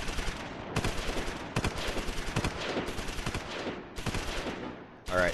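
Gunfire in the WWII tactical video game Close Combat IV: dense, rapid bursts of machine-gun and rifle fire roll in continuous waves, briefly pausing between volleys, loud and up close.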